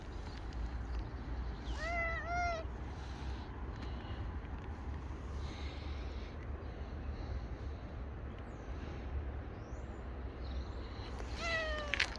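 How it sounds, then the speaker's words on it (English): Cats meow outdoors in a couple of short, rising calls early on and another pair near the end, fairly faint over a steady background hum of traffic and open air. "Hello, lovely cats."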